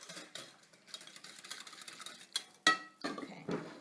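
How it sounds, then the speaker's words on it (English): A whisk scrapes and taps quickly around a bowl of cheesecake mixture, producing soft rhythmic clatter and swishing close by, with one sharper clink near the end. "I'm going to continue to whisk this."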